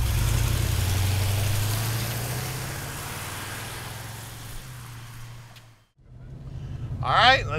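A 1999 Chevrolet Tahoe, lowered, idles with a steady low engine rumble that drops away briefly before resuming, with a short higher whine near the end.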